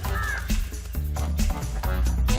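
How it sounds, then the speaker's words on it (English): Vultures scatter and take off as Indian wild dogs charge at them, with a dense burst of harsh, crow-like calls and squawks filling the short scene at close range. "A quick charging dog sends the birds flying."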